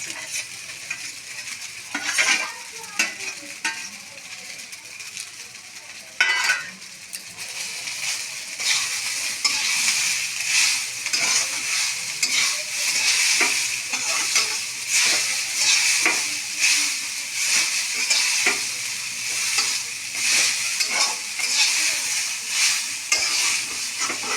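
Fried vegetables being stirred into vegetarian pasta in a hot pan: a continuous close sizzle with a repeated scraping, clattering stir of a spoon against the metal, steady and loud with no talking.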